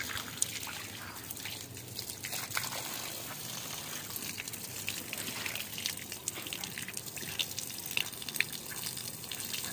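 Water from a hose pipe pours onto plants, a continuous, close trickling and splashing that holds steady throughout with small gushing surges and no voices.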